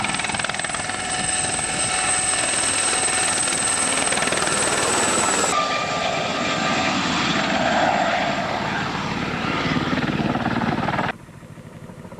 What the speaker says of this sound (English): we came under the scrutiny of this Egyptian Security Forces helicopter